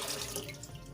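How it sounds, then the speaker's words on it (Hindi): Water running steadily into a cooking pot for fish yakhni pulao, a continuous close splashing pour. "सबसे पहले हम पानी डालेंगे एक देसी के अंदर।"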